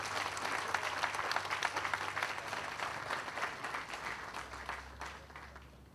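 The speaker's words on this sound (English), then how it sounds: "A round of applause for the Los Angeles Police Department Color Guard." A crowd at an outdoor groundbreaking ceremony claps for a police color guard, a steady wash of applause that thins out and fades toward the end.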